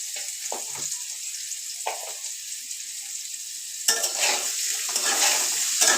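Potatoes fry in hot oil with turmeric and salt while a utensil stirs them in the pan, producing intermittent scraping strokes over a soft sizzle that grows louder and busier in the final two seconds.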